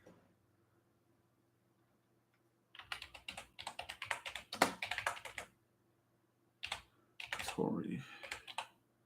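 Bursts of computer keyboard typing, near and fairly crisp, in two runs separated by a short pause over a faint steady hum, with no talk.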